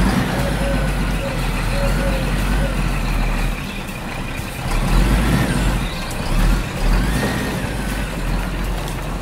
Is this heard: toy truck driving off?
yes